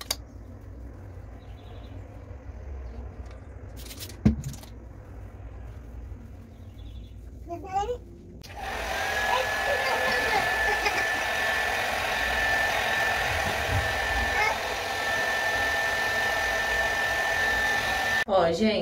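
A hair dryer is switched on about halfway through and then roars steadily and loudly while drying freshly washed hair treated with a multi-benefit spray, after quieter handling noises.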